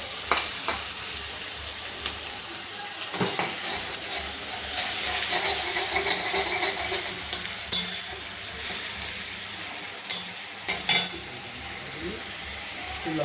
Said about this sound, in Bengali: পেঁয়াজ রসুনটাকে ভেজে দেবো।